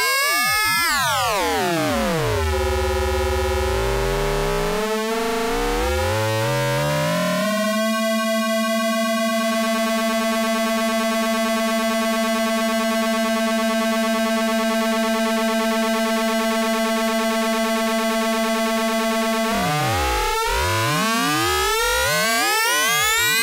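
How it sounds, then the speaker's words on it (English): Erica Synths Fusion Ring Modulator mkII on its bright setting using four germanium diodes, processing sine waves into sweeping, metallic chirps and then a sustained harmonic-rich tone full of overtones, before gliding, crossing pitch sweeps return at the end. "Now I switched ring modulator to bright setting, which means that it now uses all 4 germanium diodes in the circuit"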